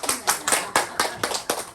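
A lecture audience claps in a quick rhythmic burst for a mother in the crowd, sharp hand claps landing in a regular beat close by, with voices mixed faintly under them.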